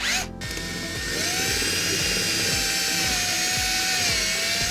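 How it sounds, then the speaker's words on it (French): A drill bores a first hole for mounting a Sportline T-top on a boat, a steady close whine holding for several seconds after a brief start, with ratcheting clicks underneath. "Là maintenant je vais tout percer"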